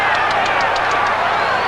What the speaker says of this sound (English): Crowd, you hear them every time Chiaverini lands a blow